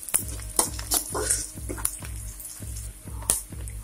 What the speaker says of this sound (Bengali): এখন পেঁয়াজ কুচিগুলো এর মধ্যে দিয়ে দিচ্ছি। পেঁয়াজগুলো ব্রাউন না হওয়া পর্যন্ত ভেজে নেব।